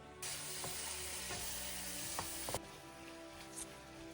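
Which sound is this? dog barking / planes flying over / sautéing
sautéing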